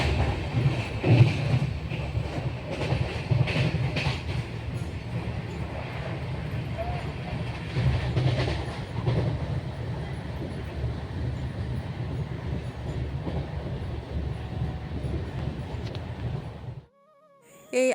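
A train on the railway gives a continuous loud rumble with rattling and clattering that runs throughout, then cuts off abruptly near the end.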